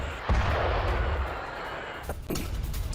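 Blasts from an Iranian missile attack on Tel Aviv, a deep booming rumble that swells at the start and holds loud throughout, followed by a second sharp impact near the end, with no voices.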